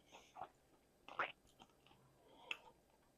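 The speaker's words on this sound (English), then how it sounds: "I've got the crunch of the beautifully seared skin" Someone chews crispy seared salmon skin from a dry-cured sous vide salmon, with a few quiet close crunches and bites spaced irregularly in an otherwise hushed setting.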